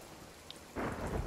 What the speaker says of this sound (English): let's wait for the storm to pass